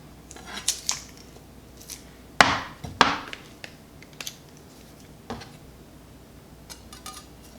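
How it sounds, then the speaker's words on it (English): Garlic cloves for a carne asada marinade with cilantro and olive oil are crushed one at a time, making a few sharp, close crunching knocks, the two loudest in the middle, with lighter taps scattered around them and no talking. "the cloves of garlic we are going to crush one by one"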